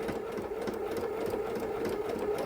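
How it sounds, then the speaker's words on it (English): Sewing machine stitching a vinyl project bag, a steady, close, continuous whirring hum with rapid needle ticking, no talk. "we're just going to start stitching and stitch that into place."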